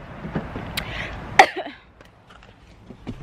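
A single sharp cough close by, followed by quieter shuffling background noise.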